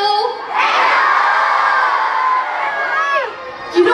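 Audience at a film festival cheering and shouting, a loud sustained burst of mixed voices including children, fading slightly toward the end with a short shout at the close.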